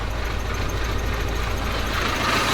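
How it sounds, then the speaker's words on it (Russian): A KamAZ 4310 truck engine runs close by with a steady, loud, low rumble and a faint knocking vibration, holding constant for the whole moment with no speech. "Вот сейчас запускаю КамАЗа под натяжечку и погнали."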